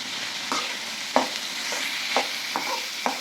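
Onions sauté in a pan for a prawn gravy, sizzling steadily while a spoon stirs them in a series of distinct scraping strokes, close and fairly quiet, with no voices.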